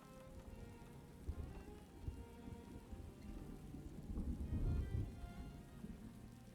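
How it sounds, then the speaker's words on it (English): Steady, soft rain in the city-building game Farthest Frontier, a continuous patter with a low rumble that swells briefly, like distant thunder, and no talk. "I love the sound of the rain."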